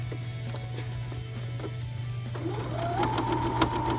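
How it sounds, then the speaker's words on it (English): A sewing machine stitching a seam in fabric while attaching a pocket, starting with a steady hum and a few isolated clicks, then speeding into a rising, rapid mechanical whir near the end. "And then we can continue to sew our seam."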